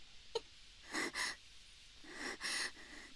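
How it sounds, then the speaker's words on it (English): Heavy, ragged breathing from The Fruit of Grisaia, close and soft: a quick sharp catch, then two pairs of breathy inhales and exhales with quiet pauses between. "I snap awake to the sound of someone breathing heavily a few inches from my ear"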